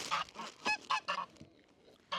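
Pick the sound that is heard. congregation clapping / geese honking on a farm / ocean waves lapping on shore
geese honking on a farm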